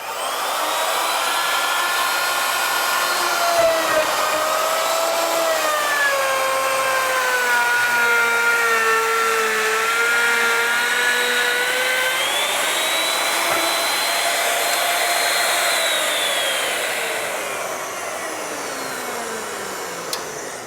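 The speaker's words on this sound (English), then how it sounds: "because of the ability to control the plunge of the router, I can start the cut here with the plunge, get to the bottom of the cut" A router on a saw-router combo plunge-cuts a stop dado in the middle of a panel, a loud, steady high motor whine with shifting pitch as it cuts, easing slightly near the end.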